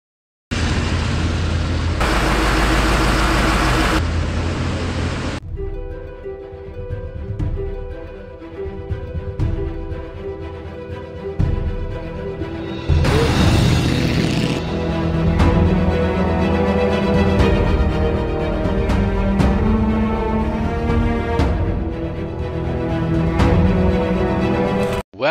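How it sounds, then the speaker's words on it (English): Engine of a 1982 Mercedes 280 SL R107 with an M110 engine and Bosch K-Jetronic injection, heard first as a loud broadband roar and then as a steady tonal drone that rises and falls, close and continuous. "Here we go, our M110 engine with a Bosch K-Jetronic."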